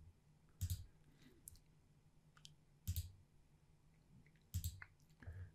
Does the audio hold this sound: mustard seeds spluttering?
no